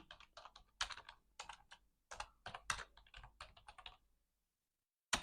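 Fast bursts of keystrokes on a computer keyboard as a kubectl config command is typed, clicking in quick irregular clusters with short pauses, close and fairly quiet, ending in a brief silence and one final tap.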